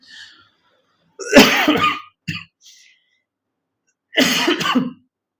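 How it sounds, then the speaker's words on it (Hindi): A few harsh coughs close to the mic, one strong burst, a brief smaller one, then another after a pause of silence. "सॉरी एक्चुअली खांसी मुझे अचानक आना शुरू हो गई"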